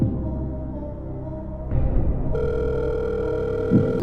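Telephone dial tone followed by a steady ringing tone, used as a phone-a-friend game-show effect over a Counter-Strike round, loud and continuous with no talking.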